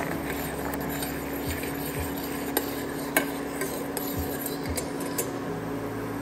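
Homemade beetroot tint mixture stirred and cooked in a pan, with soft scraping of a utensil against the pan and a few light clinks over a steady low background hum, fairly quiet throughout.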